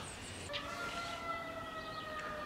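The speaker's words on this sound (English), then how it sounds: "we're going to listen to an EMS siren" A distant EMS siren rises and holds a steady wailing tone, faint against soft background noise, with no voices, heard through a 1956 Zenith black-and-white television set.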